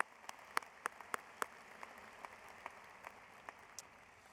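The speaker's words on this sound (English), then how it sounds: "please give me a big Cougar round of applause" Sparse, faint clapping from the audience at a Washington State University spring commencement ceremony, a handful of distinct claps spaced out over a quiet hall and thinning toward the end.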